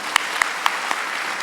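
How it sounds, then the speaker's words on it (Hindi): An audience in a hall applauds the teachers in a dense, steady wash of clapping, with a few sharper claps standing out near the start. "उनके लिए बहुत ज़ोरदार ताली बजाओ एकदम"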